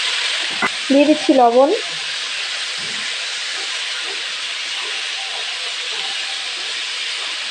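Small local potatoes frying in hot oil for aloo bhaji give a steady, close sizzling hiss throughout, with a short stretch of talk near the start.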